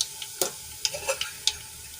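A pinch of asafoetida goes into sizzling oil in a kadai with mustard and cumin seeds. A soft, steady hiss sounds close by, broken by a few scattered crackles and pops.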